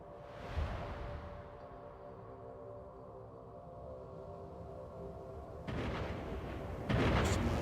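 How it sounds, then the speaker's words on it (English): Deep thunder booms from a storm in the video game The Falconeer: a low rumble with a thud near the start, then two heavier rolling cracks toward the end, no talking. "There's some more of that thunder"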